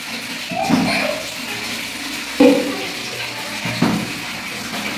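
Two young sisters bathing in a bathroom make three distinct bursts of water splashing and pouring over a background of running water, with children's voices mixed in.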